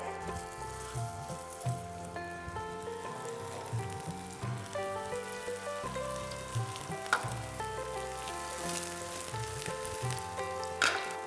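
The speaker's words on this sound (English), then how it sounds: "So let's shallow fry them in oil." Raw banana cutlets shallow frying in hot oil give a steady, close sizzle with fine crackling that runs the whole time, no one speaking.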